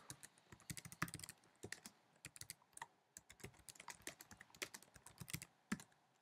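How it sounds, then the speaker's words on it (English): Fingers type on a computer keyboard, quick uneven bursts of close, crisp key clicks with short pauses, alone without speech. "So now we'll go ahead and type a little bit in here."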